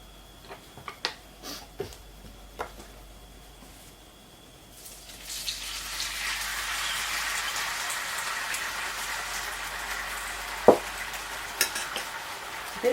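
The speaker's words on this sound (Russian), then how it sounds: "Теперь обжариваем грибы." Mushrooms frying in a pan in a village kitchen, stirred as they cook: a few sharp clatters, then a steady, close hiss of sizzling that builds and holds, with occasional scrapes of the utensil.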